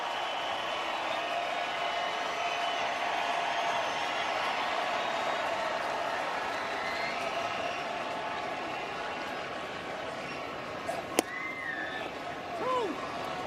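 Baseball crowd at Comerica Park during a Yankees–Tigers game, a steady wide murmur of distant fans filling the ballpark, with one sharp crack and a few brief calls near the end.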